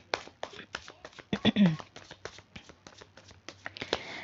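A deck of tarot-style reading cards is shuffled by hand, producing a quick series of close riffling and tapping bursts at an uneven rhythm, alongside a person talking.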